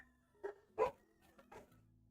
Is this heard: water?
no